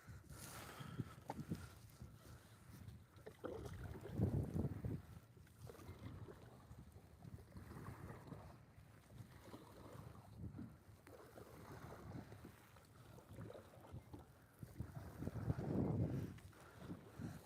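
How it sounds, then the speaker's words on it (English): A kayak is paddled back to a launch by hand after its motor has stopped working. Soft, rhythmic strokes and swishes of water repeat every few seconds, with light wind noise and no talking. "My motor just stopped working on me, so I'm having to paddle back to this little kayak launch."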